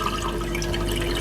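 Rinse water being poured off rice during washing for Jamaican rice and peas, a continuous close splashing and trickling flow that stays loud and steady throughout.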